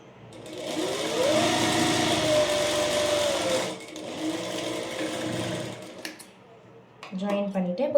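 Sewing machine running a half-inch side seam on a jabla, with a steady whirring stitch for several seconds, a brief pause, another run, then someone talking over the quiet machine.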